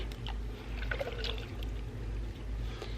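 Canned chili beans pour into a pot of homemade loaded chili, a soft wet glugging and sloshing under a low steady hum.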